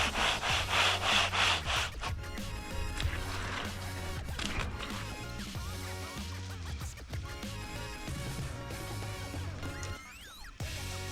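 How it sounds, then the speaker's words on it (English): Scraping and rubbing of a screed board and big bull float being worked across a fresh concrete shed slab outdoors, a steady continuous rasping with rhythmic strokes, fairly close and alone without talk. "So now it's just screeding and then using the big bull float to go across."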